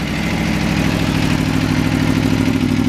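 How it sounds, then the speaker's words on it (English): Loud, close 1000 cc V4 motorcycle engine starting and idling through an aftermarket exhaust, with a deep, steady, throbbing rumble that holds evenly throughout. "that's what 1000 cc of V4 sounds like as it barks into life"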